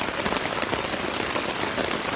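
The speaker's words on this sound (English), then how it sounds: "It's raining." Rain falls steadily along the Blue Ridge Parkway during a motorcycle trip, a dense, even hiss of drops with no talking over it.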